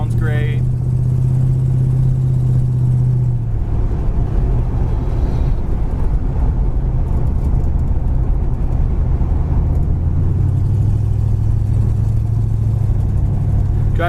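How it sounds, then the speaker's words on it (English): A 1950 Ford street rod pickup with a brand-new dual exhaust runs close by, holding a steady, deep, throaty rumble throughout with slight shifts in pitch partway through. "Brand new dual exhaust. Fit very nicely under the box. Sounds great."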